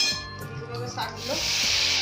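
Greens dropped into hot oil with garlic and dried red chilli in a pan, giving a steady bright sizzle that swells toward the end, with faint utensil clinks and brief talk early on.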